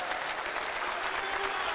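A church camp meeting congregation claps hands together, a dense, even roar of many overlapping claps filling the space without pause.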